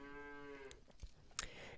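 A cartoonish cow moo from the Super Auto Pets video game sounds once, a short low drawn-out call fading into quiet game noise and a couple of small clicks.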